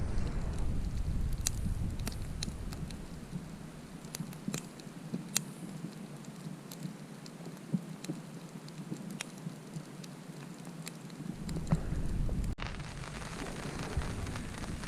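Rain falls at a lakeside campsite and patters on a tarp overhead in a steady, dense hiss, with scattered sharper drops and crackles close by and a low rumble that fades partway through.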